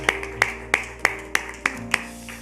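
A church congregation claps in unison during Sunday worship, seven sharp, evenly spaced claps in a steady quick rhythm over a faint background hum.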